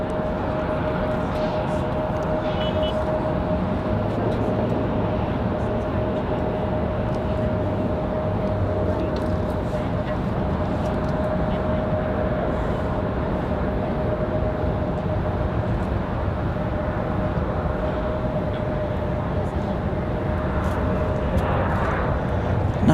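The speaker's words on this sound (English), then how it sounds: "Nice smooth touchdown for the Atlanta flight." An airliner from Atlanta touching down at Raleigh-Durham, with a loud continuous engine roar and steady whine sustained over a long stretch, a brief rising rush of noise near the end.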